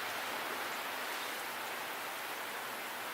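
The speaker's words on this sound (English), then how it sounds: "It's like freezing rain pellets." Freezing rain pellets falling during an April ice storm make a soft, continuous hiss of countless tiny impacts, faint and even throughout with no voices.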